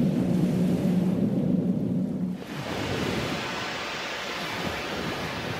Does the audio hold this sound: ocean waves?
yes